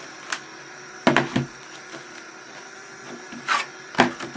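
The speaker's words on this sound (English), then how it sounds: "And then I'll go ahead and run this through my Cuddlebug" A Cuttlebug embossing machine cranks an embossing folder through its rollers, giving sharp mechanical clicks and clunks at irregular intervals over a quiet background.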